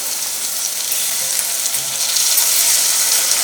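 Chopped tomatoes dropped into onions frying in a pan with ginger-garlic paste, giving a loud, steady, hissing sizzle that fills the whole stretch with no talk.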